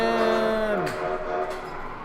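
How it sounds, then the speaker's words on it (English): A Lost in Space pinball machine playing its Comet train sound, a tonal whistle-like horn that bends downward and fades, heard close and alone. "That train sound you're hearing is Comet"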